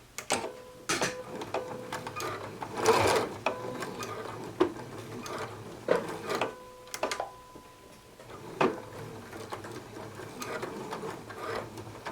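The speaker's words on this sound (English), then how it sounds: "put my zipper foot down, come on, get under there, it'll be sewing right next to the edge of the D-ring" A sewing machine with a zipper foot stitches beside a D-ring in short separate bursts of rapid mechanical ticking, with pauses and small handling clicks between runs, close by and fairly quiet.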